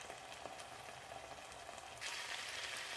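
Pickled mustard greens stir-fried with egg in a pan, a steady soft sizzle with faint scraping stir sounds that rises to a brighter, louder hiss partway through.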